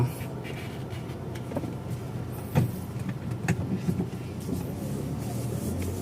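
A Toyota Altis reverses at a repair garage, with a steady low engine rumble and a few faint clicks and knocks over it. No one speaks.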